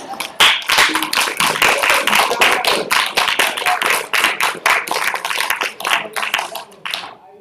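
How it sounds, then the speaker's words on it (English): Sustained audience clapping after a university colloquium talk, dense and close, with many hands beating steadily for several seconds before tapering off. "Let's give Deborah another round of applause"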